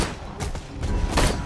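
Gunfire in the video game Borderlands 2, a few spaced shots cracking over a busy game background, moderately loud with no talking.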